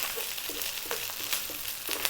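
Steady sizzling of rice frying in a hot pan for chicken fried rice, with soft scraping and stirring sounds in a loose rhythm and no talking.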